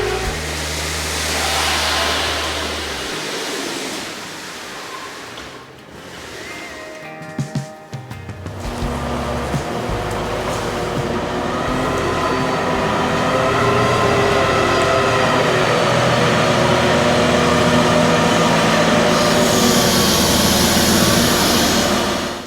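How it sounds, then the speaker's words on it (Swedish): A wheel loader's diesel engine starts and runs, a steady heavy mechanical drone that swells and holds loud and close, with a brief clattering break partway through. "Men jag hämtar hjullastaren så kör vi."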